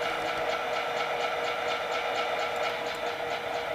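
A freight train standing at a meeting point, heard as a loud steady rumble and hiss with faint rhythmic pulses, close by and without talk.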